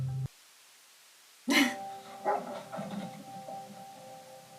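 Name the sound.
dog barking in Fallout TV series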